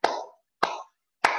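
Three separate hand claps, evenly spaced about half a second apart, each one sharp and close with a short ring-off and silence between.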